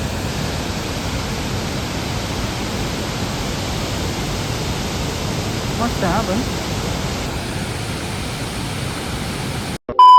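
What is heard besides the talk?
water flowing over Barvi Dam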